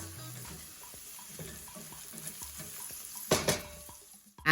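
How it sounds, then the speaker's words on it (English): A utensil stirs ingredients into hot oil in a pan while cooking coconut rice, giving a quiet, repeated scraping with a gentle sizzle beneath and a louder clatter near the end. "I'm just going to stir it together just until everything melts beautifully"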